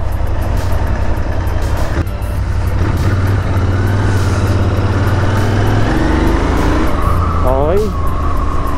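A Royal Enfield 650cc motorcycle on a test ride hums with a loud, steady low engine drone and rushing wind close by, a rising whine late on, while a voice talks over it.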